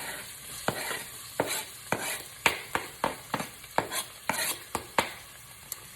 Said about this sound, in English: let's get these onions on here because my oil is hot